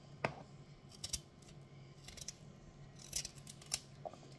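Carrots are peeled for a cooking pot, with faint, quiet scraping strokes of a peeler coming in short, irregular bursts against a low, steady background.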